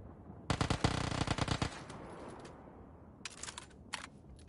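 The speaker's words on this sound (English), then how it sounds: "I'm hearing gunfire." Bursts of automatic gunfire in the video game PUBG, a dense rapid volley followed by quieter, more distant shots after a pause, with no talk over them.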